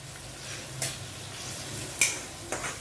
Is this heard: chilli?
yes